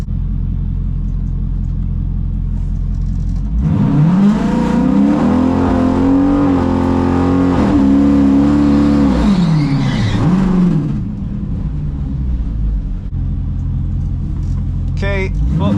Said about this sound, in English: I'm gonna do a full run here and kind of do like as if it was a normal run and go all out to see what I would run